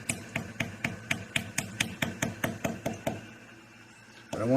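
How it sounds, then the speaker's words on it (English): A small cheap hammer drives pins into a hole in a door frame. About fifteen quick, evenly spaced sharp taps come close and distinct, then stop and leave a pause. "we're going to take a little cheap hammer, and I don't know if I can see what I'm smacking"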